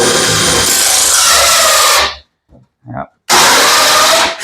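A loud power drill whirs steadily for about two seconds boring a hole in a kitchen cabinet, stops briefly while a voice says a word, then starts up again close by.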